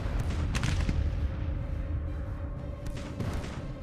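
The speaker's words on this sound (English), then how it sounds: "Artillery battle." Rumbling artillery fire in the Civil War strategy game Grand Tactician, a dense, continuous wash of distant booms with a few sharper cannon reports standing out, no voices over it.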